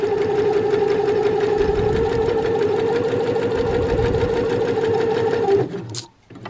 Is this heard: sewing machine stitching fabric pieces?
yes